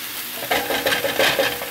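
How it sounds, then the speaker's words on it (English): Pork stir fry sizzles loudly in a pan, a close, continuous hiss with bursts of crackling as it is tossed, with no voices. "I make stir fry, and in this case pork stir fry"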